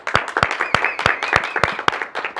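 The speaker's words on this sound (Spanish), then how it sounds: "Un aplauso para él." Studio audience applause on a Spanish-language talk show greeting a guest, brisk close clapping with sharp individual claps standing out in an uneven rhythm.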